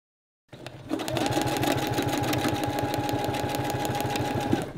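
A sewing machine fitted with a spring needle stitches free-motion over fabric on water-soluble stabilizer, a fast, even mechanical rattle that starts abruptly and runs steadily, close and alone.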